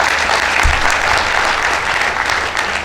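Dense, steady applause from a large audience at a business success summit, filling the space loudly and evenly for the whole stretch with no voice on top.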